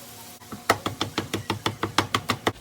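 A pound of ground beef being smashed in a pan with a meat smasher, about a dozen evenly spaced, dull knocking thuds in a quick steady rhythm, close and fairly quiet.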